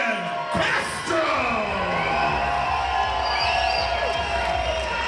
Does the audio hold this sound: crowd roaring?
yes